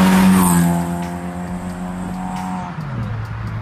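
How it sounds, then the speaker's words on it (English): A car engine revving high with a thin, tinny, buzzy tone, holding steady then dropping in pitch as the revs fall near the end; no voices. "when it gets to maybe like 4K RPM, it gets really canny and just sounds really bad"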